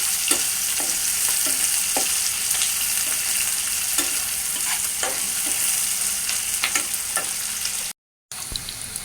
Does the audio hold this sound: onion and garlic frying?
yes